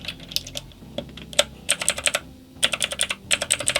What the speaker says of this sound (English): I think the Razer keycaps do sound slightly nicer